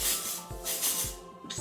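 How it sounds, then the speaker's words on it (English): Texture spray hisses onto hair in three quick bursts, each a short airy spritz close to the mic, with no talking. "I'm gonna take some texture spray."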